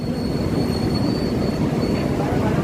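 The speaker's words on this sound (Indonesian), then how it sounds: "di sebelah sini kereta kita udah datang nih, Argo Parahyangan 137." Argo Parahyangan passenger train pulling into a station, a loud, steady rolling rumble of wheels on rail with a thin high squeal running through it, no voices.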